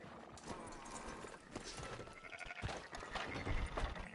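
Sheep bleat in the video game Red Dead Redemption 2 amid a busy, dense mix of hoof clatter and other animal and ambient noise, fairly faint and cluttered throughout.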